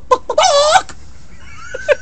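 A man imitates a chicken with a few short clucks followed by a longer, loud squawking cackle, close to the microphone, with a faint higher vocal tone trailing off afterward.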